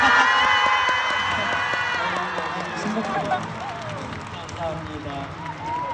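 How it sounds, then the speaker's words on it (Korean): Crowd at a stadium concert, The Dream Show 2 at Jamsil Olympic Stadium, clapping and cheering loudly together with high-pitched screams, easing slightly while the roar continues, with voices shouting over it. "너무 우리한테 한번 박수 쳐주세요"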